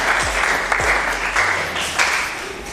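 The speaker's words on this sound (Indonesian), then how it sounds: "Tepuk tangan dulu buat Jis nih" Classroom applause for a student who asked a good question, a burst of clapping from a small group of students, close and steady with some low room rumble underneath.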